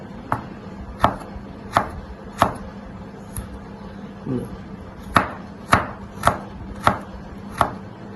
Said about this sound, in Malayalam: വളരെ നൈസായിട്ട് നമ്മൾ അരിയുക.